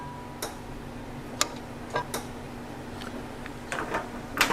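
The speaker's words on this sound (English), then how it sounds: "we're going to take the other one and go in pin 87 and listen for the click" A Chevy Silverado AC compressor relay clicks as a jumper wire bridges pins 30 and 87, giving a series of sharp, close, irregular clicks and taps over a low steady hum.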